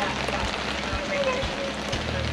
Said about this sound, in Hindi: हालाँकि बारिश हो रही है जैसे कि आप देख पा रहे हैं।